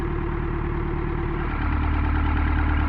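A tractor engine idles just after a cold-weather start, with a close, loud, even diesel chug that thickens slightly partway through.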